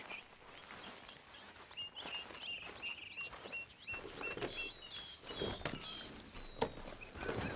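Horse hooves clip-clop in an irregular patter at moderate volume in Red Dead Redemption 2, with bird calls and scattered ambient game sounds around them.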